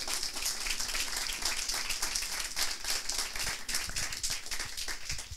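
An audience at a coding bootcamp demo event applauds former students, giving continuous close hand clapping with distinct individual claps at a steady level for several seconds.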